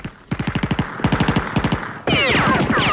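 A platoon opens fire with automatic weapons in a Malaysian war film: rapid, evenly spaced bursts of loud gunfire, broken by a brief pause, then a denser, continuous fusillade with no talking.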